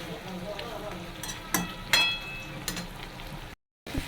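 Chicken with spices is stir-fried in a pan, sizzling steadily under a few sharp spatula scrapes and clinks, then cutting out abruptly before it briefly resumes.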